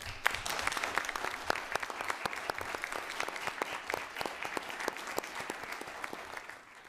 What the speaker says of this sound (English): Let's have them all stand once again for a round of applause.